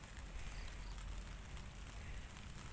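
Rain falls outdoors at Stone Garden, a hilltop rock park near Bandung, as a faint, steady wash of hiss with soft patters, continuous and even throughout with no talk.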